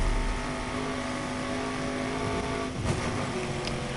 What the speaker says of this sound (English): This thing certainly sounds badass. It doesn't sound like any BMW I've ever heard.